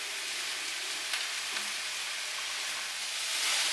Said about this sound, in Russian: Лук стал прозрачным, добавляем сюда грибы. И обжариваем все вместе до золотистого цвета грибов.